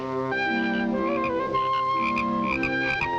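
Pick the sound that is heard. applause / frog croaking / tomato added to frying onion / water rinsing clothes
frog croaking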